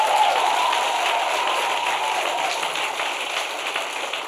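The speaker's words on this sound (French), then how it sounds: "Ça s'applaudit, non?" Audience applause on a talk show, a dense crackle of clapping that carries steadily and then fades slightly toward the end.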